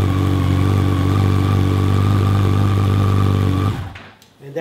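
A Yamaha FJR1300 motorcycle engine runs at a loud, steady idle close by with a deep, even rumble for several seconds, then cuts off abruptly near the end, leaving a brief near-silence.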